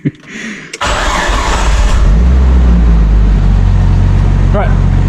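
Nissan R33 Skyline engine cranking and catching, then settling into a loud, steady idle close by, with a brief voice over the rumble.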